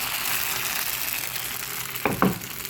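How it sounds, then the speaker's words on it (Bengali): Patishapta batter sizzles and fries steadily in a hot pan as it is spread around in a circle, with two short, brighter bursts of sizzling near the end. "একটু ঘিরে ঘিরে পাটিসাপটার ব্যাটারটা চারপাশে দিয়ে ভাজিয়ে নেব।"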